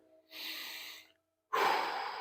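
Slow, audible breaths drawn and released while holding a hip flexor stretch in a golf stretching class, two long airy exhalation-like sounds close to the mic separated by a brief silence, with no talking.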